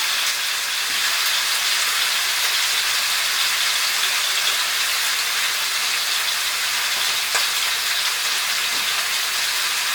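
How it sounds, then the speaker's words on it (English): An air fryer running while BBQ chicken cooks inside, a steady close fan whoosh and airy hiss holding constant throughout, with no one talking. "are going to do it in the air fryer"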